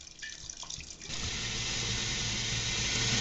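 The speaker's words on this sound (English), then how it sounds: "Okay, now we're going to start adding water. We'll pour it in until we have 5 gallons worth of liquid here." Water is poured into a container while making pineapple wine. A short uneven trickle becomes a steady, loud gushing stream that fills the vessel.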